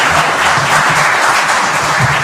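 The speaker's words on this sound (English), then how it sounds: "let's give them a round of applause" A crowd at a county election debate night applauds: a brief, dense wash of steady clapping, loud and continuous throughout, with no voices over it.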